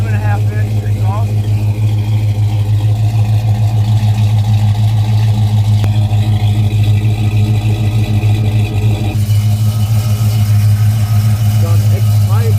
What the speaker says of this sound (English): Been sitting here idling for a moment.